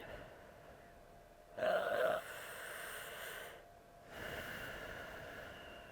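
Deep breath taken during a slow, gentle yoga flow: one close, brief breathy exhale with a snort-like nasal edge, then quiet room tone.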